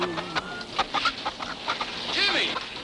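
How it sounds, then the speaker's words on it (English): Chicken clucking in a 1940s Western film scene, a few short cackling calls mixed with brief human voices and bustle, moderately close. "Chicken?"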